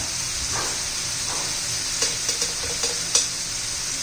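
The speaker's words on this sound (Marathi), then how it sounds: "सगळे मसाले चांगले तेलात परतून घेणार आहोत आपण" Ground spices such as chilli powder, turmeric and coriander powder sizzle steadily in hot oil while a spoon stirs them, giving a few sharp scraping clinks over the constant frying hiss, close up with no talking.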